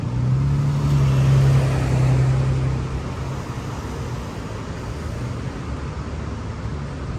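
Car driving through the city streets of Uptown Charlotte, heard as a steady low road rumble and engine drone from inside the vehicle, with a low tone through the first few seconds.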